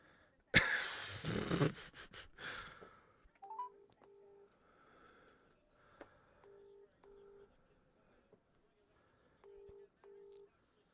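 A phone is dialed, and short electronic keypad tones sound in pairs at an even pace. They come after a burst of loud rustling and breathing near the microphone, with faint voices in the background.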